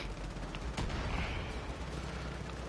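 Dense gunfire and rocket blasts from the video game Far Cry 5 form a continuous roar of overlapping shots and explosions, loud and steady through the whole stretch, with no talking.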